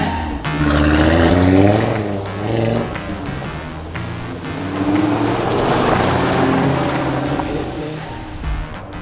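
A 2018 Audi TT RS engine revs and accelerates, loud and close, with a rising growl that eases briefly and then climbs again in a second surge.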